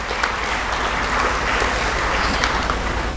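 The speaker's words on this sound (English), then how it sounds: "I think they deserve a big round of applause." Sustained applause from an audience at a research meeting celebrating a college of health sciences' 25th anniversary, a steady dense wash of clapping with no speech.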